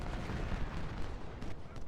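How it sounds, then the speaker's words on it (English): Cannon artillery fire rolls through a Civil War battle in the strategy game Ultimate General: Civil War, heard as a dense, continuous wash of overlapping booms and gunfire that stays steady and fairly loud throughout. "Cannons, start firing please."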